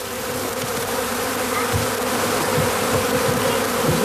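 Honeybees fan and buzz just outside their hive, a dense, steady swarm drone that fills the whole stretch loudly and evenly with no voices over it.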